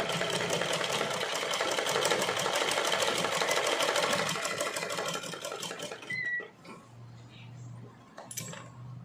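A sewing machine stitches pleats on a pattu pavada in a steady, rapid ticking run for about six seconds, then stops, leaving a quiet low hum and a few faint clicks.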